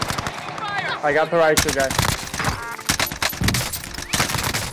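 Automatic gunfire from the video game Call of Duty Warzone on Rebirth Island: rapid, loud bursts of shots crackle repeatedly across the clip while players talk over them.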